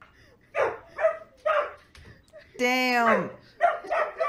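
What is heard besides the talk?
dog barking in a meme video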